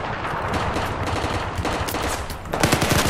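Rapid, continuous automatic gunfire from the video game Battlefield 4, dense and loud throughout with overlapping bursts that grow heavier near the end.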